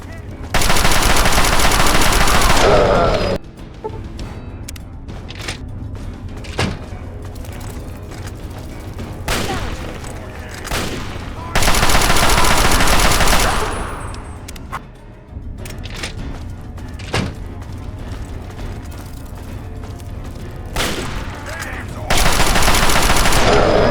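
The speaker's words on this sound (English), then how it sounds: "Opening fire!" Loud bursts of automatic gunfire from the Fallout 3 video game, sustained volleys opening and closing the stretch, with scattered single shots and impacts in between.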